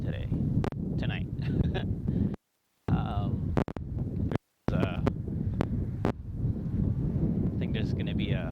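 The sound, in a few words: strong wind outdoors on lavalier microphone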